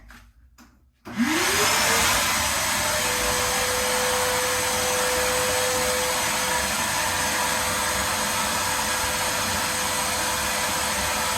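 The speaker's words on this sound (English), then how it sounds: "we're going to get the dust out of the holes with a vacuum cleaner." A vacuum cleaner switches on with a rising whine and then drones steadily and loudly without pause, clearing dust from holes drilled in a concrete floor.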